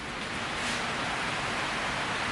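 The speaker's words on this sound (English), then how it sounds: "It's super windy" Strong wind roars outdoors as a steady broadband rush, loud and continuous with slight gusting swells and no voices.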